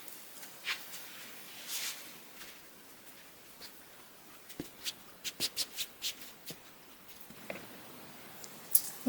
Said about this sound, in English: Okay guys, so I'm gonna be folding the fabric